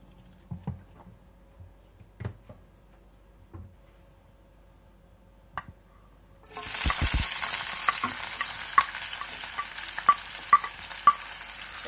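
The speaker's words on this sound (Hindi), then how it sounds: "फ्राइंग पैन में अब हम तेल डाल लेंगे।" Garlic and onion hit hot oil in a frying pan for bhindi fry, a few light taps and clicks giving way to a sudden, steady sizzle with sharp pops and crackles throughout, close and unaccompanied by talk.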